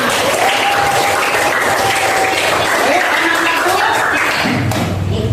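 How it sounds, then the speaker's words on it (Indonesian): Applause from a class of participants at an Islamic education teacher training session in Salatiga, Indonesia, a steady dense clapping that fills the clip, with a faint tone and some voices mixed in. "Tepuk tangan buat kita semua."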